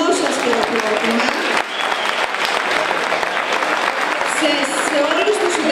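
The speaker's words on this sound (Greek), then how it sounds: "δώστε το πιο δυνατό σας χειροκρότημα, το πιο θερμό σας χειροκρότημα" An audience applauds at an album launch event, dense sustained clapping throughout, close and loud, with a brief dip before it swells again.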